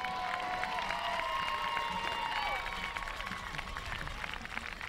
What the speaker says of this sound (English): Let's give both these teams one more round of applause for a fine season.